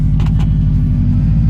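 A Subaru Forester with a new clutch master cylinder pulls hard under acceleration, giving a loud, deep, steady engine rumble close to the listener, with a few brief clicks or rattles near the start.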